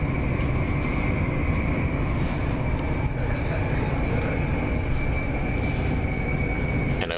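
The interior of a moving train bound for Schiphol gives a constant loud rumble, with a low roar and a steady whine running the whole time, and no breaks.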